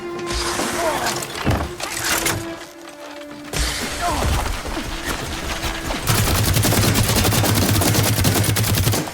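Weapon fire during a Horizon Forbidden West fight, rapid loud bursts and impacts, a short gap, then a sustained rattling barrage toward the end.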